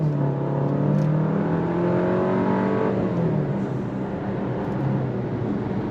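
A 2025 VW Tiguan SEL R-Line compact SUV accelerating hard to merge in traffic, its engine note rising steadily in pitch through the gears, loud and continuous from inside the cabin.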